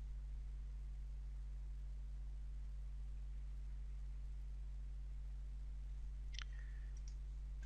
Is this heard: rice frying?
no